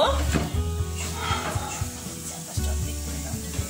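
Cooking oil poured into a hot pan on a stove, starting the base for a taki fish bhorta, sizzles and crackles steadily at close range over a low background hum.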